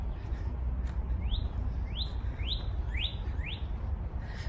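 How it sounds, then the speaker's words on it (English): Small birds chirp on an outdoor nature walk: about five quick, rising high-pitched tweets come in a loose series over a low, constant outdoor rumble. "Birds chirping."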